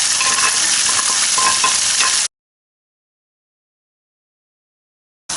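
Chopped bacon sizzles loudly in a hot skillet, a dense continuous crackle that cuts off abruptly to silence before briefly resuming.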